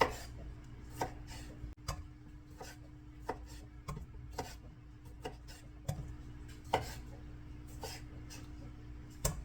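A knife quarters cherry tomatoes for pasta salad on a wooden board, a series of quiet, crisp cuts and taps spaced irregularly, close by and alone.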